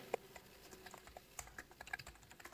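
Python code being typed on a computer keyboard, a quiet, uneven run of light key clicks with short pauses between bursts, heard alone.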